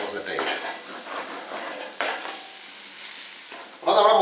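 Egg and raw banana are stirred in a hot pan, a scraping, sizzling stir running throughout, with a brighter burst of frying and clattering at the end.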